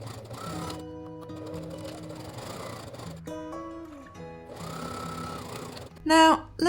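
A sewing machine stitching the side seams of a tote bag with a 1 cm seam allowance: close motor whirs in several runs with short pauses, under light background music.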